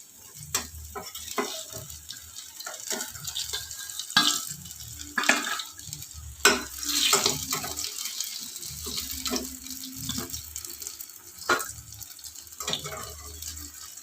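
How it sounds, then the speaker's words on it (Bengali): Pointed gourd (potol) frying in a pan, a continuous sizzle with frequent stirring scrapes and utensil knocks, close and moderately loud. "এইভাবে ভাজা হতে থাক আমার পটলগুলো"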